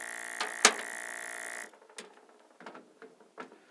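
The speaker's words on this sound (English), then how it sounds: "This pump is not very strong. However, for what I have over here in the field, it's going to do the job." A small handheld vacuum pump used for bleeding a brake system runs with a steady mechanical whine and a sharp click, then stops, followed by scattered faint clicks and handling noises nearby.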